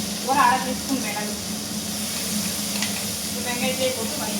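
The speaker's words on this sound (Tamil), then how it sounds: "வெங்காயத்தையே போட்டு வதக்கிக்கலாம்." Small onions sauté in oil in a pan for a mutton curry, giving a steady, close sizzle that runs throughout with occasional stirring while someone talks.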